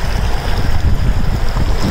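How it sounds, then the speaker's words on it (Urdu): Steady rushing of a boulder-strewn trout river in Pike National Forest, a close, continuous broadband wash with wind buffeting the microphone and no voices. "پانی کی اپنی آواز کتنی سوٹنگ ہے"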